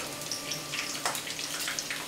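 Pepper dropped into hot oil in a pan for Egyptian molokhia, a close, steady sizzle and spattering hiss with a sharp crackle burst in the middle.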